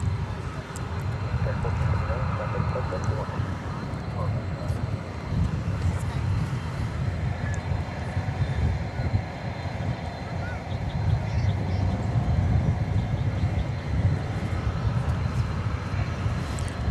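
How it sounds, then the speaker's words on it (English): China Airlines Cargo Boeing 747-400, built in 2006, at DFW Airport at night, a continuous low engine roar rumbling steadily at a distance with faint talk mixed in. "China Airlines Cargo Flight 5265 going to Anchorage. 747-400."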